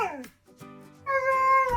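A cat meows in a wood shop, giving a sliding cry at first, then a softer one, and finally a long, loud, clear meow near the end, close by.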